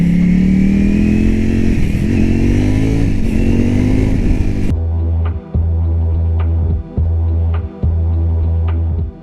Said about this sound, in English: I could crack it wide open and shift through the gears, wide open throttle, no clutch.